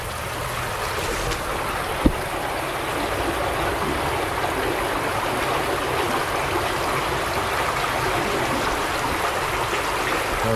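Water rushes and gurgles steadily through a clogged culvert, a dense continuous wash of flow with a single sharp knock early on.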